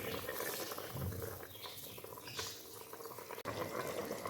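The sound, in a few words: soaked rice being added to boiling water for mutton pulao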